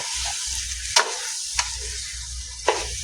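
Pepper chicken frying in a pan with a steady sizzle, broken by three sharp scrapes of a spoon stirring it.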